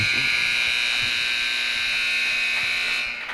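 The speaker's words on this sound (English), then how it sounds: "Buzzer about to sound, and there it is." A long, steady electronic ice hockey period-end buzzer drones loudly over arena noise for about three seconds, then cuts off.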